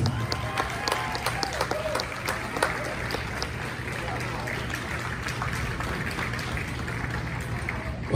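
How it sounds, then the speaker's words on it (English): Audience applause for the Hot Rods at a hall of fame induction ceremony, a steady wash of clapping from a crowd that carries on throughout, with voices mixed in underneath. "let's have a nice big round of applause for the Hot Rods!"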